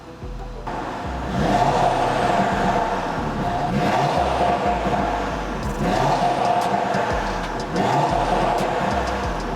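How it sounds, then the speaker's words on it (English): A 2022 Audi RS3 saloon engine revs repeatedly, rising and falling in pitch with a throaty exhaust note, several surges in a row with no talking. "in terms of the noise of the exhaust"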